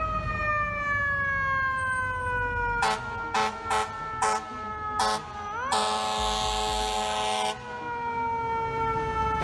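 A fire truck's siren wails in long gliding tones, broken by several sharp blasts of an air horn and one sustained horn blare, loud and close in city traffic.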